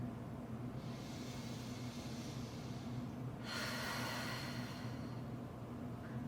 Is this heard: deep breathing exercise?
yes